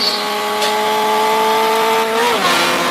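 A 2023 Supra races at speed in the mobile game Car Parking, its synthetic engine holding a steady high drone before the pitch dips and climbs again near the end, loud and continuous with no talking.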